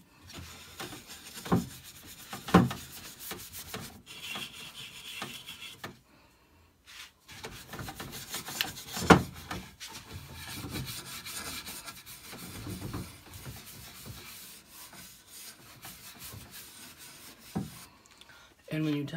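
A cloth wipes excess Annie Sloan Chalk Paint in Old White off a wooden craft room hutch, giving soft intermittent rubbing strokes close by with a couple of sharper scuffs, with some talk in between.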